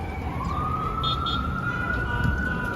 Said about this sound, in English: The sounds of New York City. Sirens, screaming, yelling.